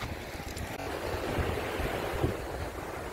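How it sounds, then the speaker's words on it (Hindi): River water flows in the rainy season at a fishing spot in Gandevi, Gujarat, a steady broadband rush with some wind buffeting, continuous and close. "इस ये पानी का आवाज़ भी आपको आ रहा होगा"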